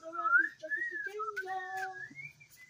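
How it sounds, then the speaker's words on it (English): A person whistles a short, wavering melody alone for a few seconds, close and clear with no other sounds. "I can whistle a little bit."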